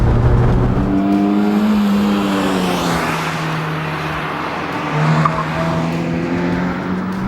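A Mazda Miata NC drives through corners, its engine note close and steady, rising and falling in pitch as it shifts and accelerates, with faint tire noise and no talking.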